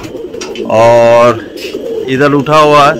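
Pigeons cooing close by, a large pigeon with two or three young, giving loud throaty coos in two long bursts while someone talks in between.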